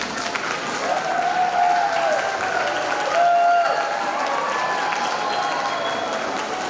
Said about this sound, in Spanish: Recibimos al licenciado con un fuerte aplauso.